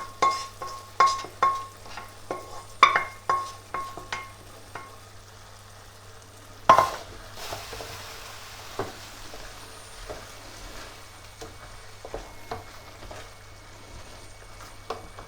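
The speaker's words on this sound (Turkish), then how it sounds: "arpa şehriyeleri tencerenin içine alıyorum." Barley-shaped vermicelli fries in a pot while being stirred, with a run of rhythmic scraping stirs over a soft sizzle, one sharp clank, then quieter sizzling and occasional light stirs.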